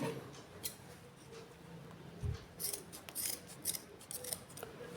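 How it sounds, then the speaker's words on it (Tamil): Scissors snip through excess rope on a handmade water bottle hanger, giving several crisp close cuts spaced across a few seconds in a quiet room. "இப்போ எக்ஸஸாக உள்ள கயிறை கட் பண்ணிக்கிறோம்"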